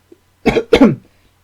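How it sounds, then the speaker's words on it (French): Two quick coughs close together, near and fairly loud, after a tiny faint click, with silence around them. "J'aurais pas tenu, j'aurais finalement toussé une deuxième fois"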